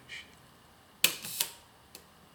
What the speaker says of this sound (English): you can hardly hear the shutter in this case